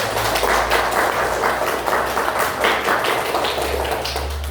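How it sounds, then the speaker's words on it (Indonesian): A classroom of students claps together, a dense, steady wash of many hands close by with faint voices underneath, holding even from start to finish. "Tepuk tangan dulu"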